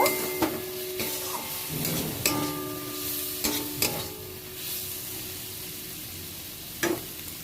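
Green tomato with chili powder and turmeric sautéing in a pan, a steady close sizzle broken by several sharp stirring scrapes and clinks of a utensil.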